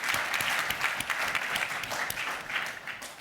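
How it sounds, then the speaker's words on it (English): Audience applause welcomes a speaker onto the stage at a Mediterranean youth forum session, steady and sustained for the full stretch, dense clapping from a large hall crowd with no talk over it. "Let's welcome him with a warm round of applause."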